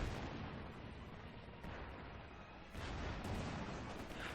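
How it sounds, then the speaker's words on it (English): Sherman HE rounds exploding in Company of Heroes 2 battle, a dense rumbling barrage of artillery blasts and gunfire, loud and continuous with a heavier burst near the end. "Sherman HE rounds wiped out the entire squad"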